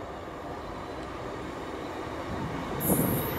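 A Class 150 diesel train departing Cardiff Queen Street station, a continuous low rumble of wheels and engine that swells slightly toward the end, with a brief high squeal near the close.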